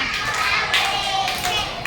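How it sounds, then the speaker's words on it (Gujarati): Schoolchildren clap their hands along to a Gujarati children's song, a string of quick, bright, evenly spaced claps close to the microphone. "મને તાળી પાડતા આવડે છે"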